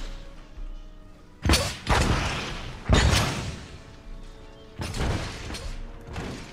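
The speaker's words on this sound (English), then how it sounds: "Mortar fire, and it just doesn't stop." Mortar and artillery fire in the Massive Battles video game, several heavy booming blasts landing in irregular succession, each with a rumbling decay, loud and close over a low background.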